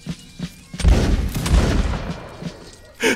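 Musket volleys crack out in Mount & Blade: Napoleonic Wars, a couple of heavy booming discharges with rolling echo amid scattered fainter shots, and a sharp report again at the end.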